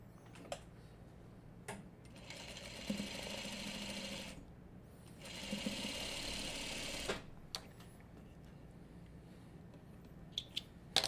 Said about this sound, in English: I'm going to sew this together.